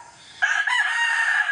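A rooster at a fighting-cock keeper's yard crows once, loud and close, breaking in suddenly after near silence and holding a bright, sustained call to the end.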